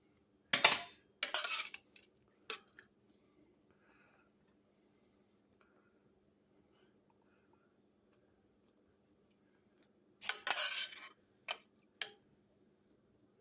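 A slotted spoon clinks against dishes in a kitchen while mashed potato and gravy chicken pie are made, with two clusters of bright metallic clatter separated by a long quiet stretch and a few faint ticks.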